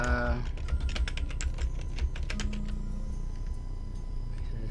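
Typing a word on a computer keyboard while working with the Text Tool in Xara Designer Pro, a quick run of light key clicks over a steady background hum.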